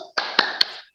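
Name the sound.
rhythmic classroom hand clapping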